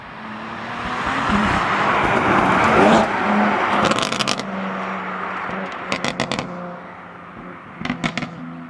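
A BMW M2 Competition engine swells as it passes nearby and roars away, followed by fading engine hum and a few sharp crackling pops from the exhaust.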